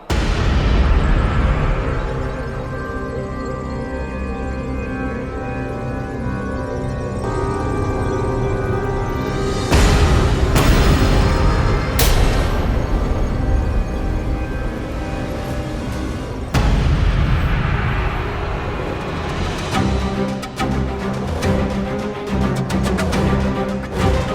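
Explosion sound effect in a Hindi TV serial drama: loud booming blasts and bursts over a continuous music-like bed, with sharp hits around the middle and later sections and no speech.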